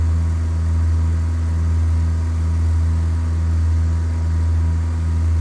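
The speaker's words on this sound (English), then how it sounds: "you can pull your mixture back a bit until you hear the engine running stronger" Light aircraft piston engine from a flight simulator game, holding a constant, loud, low humming drone during a climb over Swiss mountains, steady throughout with no speech.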